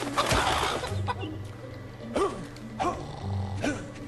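A chicken in the Fable video game gives several short clucks and squawks, spaced a second or so apart over a low game ambience.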